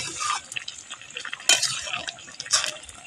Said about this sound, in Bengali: এবারে দেবো ভেজে রাখা মাছগুলো।